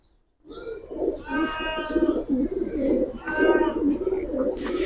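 Several pigeons coo steadily and close by, a continuous soft warbling murmur with rising and falling throbs and occasional higher chirps, typical of a Giribaz and coloured pigeon collection kept in a loft.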